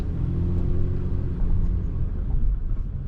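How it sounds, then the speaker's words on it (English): A truck pulls away with a steady low engine rumble and road noise, loud and continuous throughout with no talking. "Ooh, I was able to put in drive. That's kind of scary. We're driving off."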